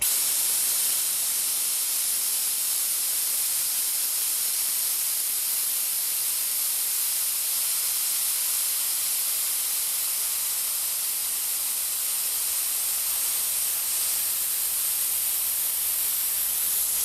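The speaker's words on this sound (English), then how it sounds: "And we're opening the large discharge valve." A steady, loud hiss of compressed air rushes out through an opened large discharge valve in a lab thermodynamics setup, continuous and unbroken throughout.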